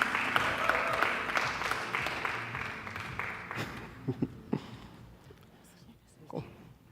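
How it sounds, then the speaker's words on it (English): Audience applause at a design thinking convening, a broad wash of clapping that fades after about four seconds, leaving a few scattered claps and murmuring voices in a quieter room. "Can we please give them a very big round of applause?"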